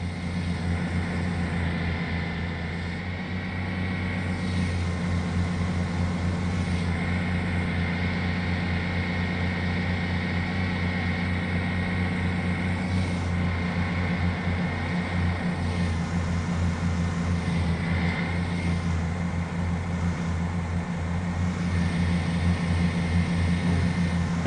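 A locomotive engine in a train simulator video game drones steadily at a low pitch for a long stretch, with constant mechanical hum and faint periodic swells, no voices.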